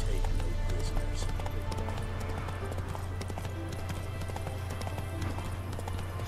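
In the video game Witcher 3, a horse gallops with a fast, steady run of hoofbeats over a constant low rumble, close and continuous throughout.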